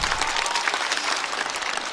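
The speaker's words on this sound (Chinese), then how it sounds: "再次掌声送给梦洁" A studio audience at a stand-up comedy show claps loudly and steadily, a thick, continuous round of applause with no voices cutting through.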